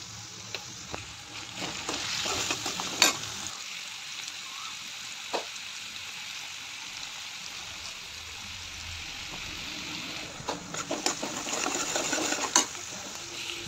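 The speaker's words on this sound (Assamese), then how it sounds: "কেৰাহীত তেল গৰম হৈ যোৱাত পিঁয়াজ নহৰু দি দিছোঁ" Onion and garlic fry in hot oil in a kadai with a soft, even sizzle, broken by a few sharp clicks and scrapes of stirring, close and fairly quiet with no talking.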